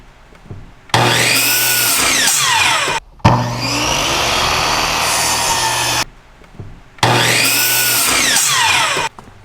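Power saw ripping through wooden boards for a DIY desk, three loud cutting bursts of a few seconds each with a whining rasp, separated by short pauses, close up with no speech.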